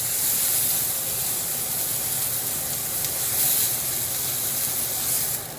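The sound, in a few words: beef brisket searing and sizzling in pan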